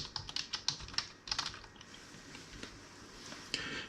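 Keys clatter on a computer keyboard in quick, uneven bursts while a product description is typed, with sharp close clicks early that thin out to a few scattered taps.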